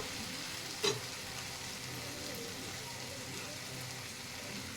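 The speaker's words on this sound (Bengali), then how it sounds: "এবার আমি এখানে দেব আগে থেকে সেদ্ধ করা রাজমা।" Pre-boiled, drained rajma beans go into a hot frying pan, giving a sharp splash-hiss at the start that settles into a steady, even sizzle with no talking.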